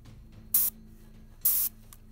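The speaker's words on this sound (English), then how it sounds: "So when I start to spray," An airbrush spraying paint gives two short, loud bursts of hissing air about a second apart, each lasting roughly a fifth of a second, against a quiet background hum.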